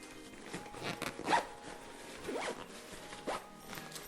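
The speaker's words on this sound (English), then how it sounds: "zip that down" A zipper on a travel bag is pulled in several short, quick strokes, its scratchy rasp close and clear against a quiet background.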